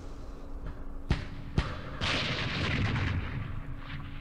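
Mortar rounds fire and land in the Campaign Series Middle East war game, two sharp booms in quick succession followed by a louder, sustained blast rumbling on for a couple of seconds.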